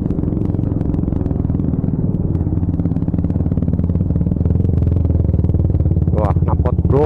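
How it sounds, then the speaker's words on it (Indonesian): Loud motorcycle with an aftermarket exhaust rumbles close by in congested holiday-exodus traffic in Indonesia, a steady low engine drone throughout, with sharp higher bursts near the end. "Wah, knalpot brong."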